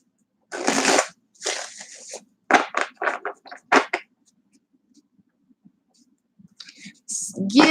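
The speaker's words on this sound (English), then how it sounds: "give them a shuffle and see what the cards have to say here." Tarot cards being shuffled in a live reading, heard as bursts of crisp papery riffling and clicking in several separate runs, with quiet gaps and a voice entering briefly near the end.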